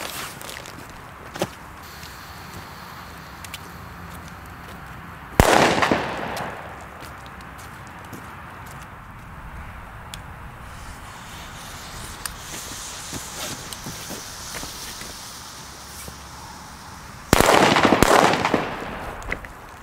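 Two Pyrotrade Vipper 3 firecrackers go off outdoors, each a sharp loud bang with a short crackling tail, spaced about twelve seconds apart, with quiet ambient noise and occasional small rustles between them.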